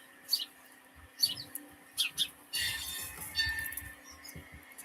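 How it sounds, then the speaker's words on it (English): Small birds chirp and tweet outdoors in short, repeated bursts, fairly close but soft, over a quiet background hum. "We can hear the beautiful birds and the divine sun."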